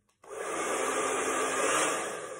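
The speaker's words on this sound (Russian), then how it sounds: "Вот фен." A hair dryer switches on after a short click and blows hot air in a loud, steady whoosh that holds to the end.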